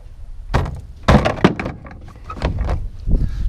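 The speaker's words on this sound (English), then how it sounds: "you just tap it up and it'll come right off" Tapping the tab off a killer dowel pin on a 12-valve Cummins engine, a handful of short knocking thunks in quick succession, close and moderately loud, with no talk over them.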